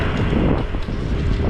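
Wind gusts buffet the microphone on a boat cruise off Aruba, a loud, low, rumbling roar that holds steady throughout.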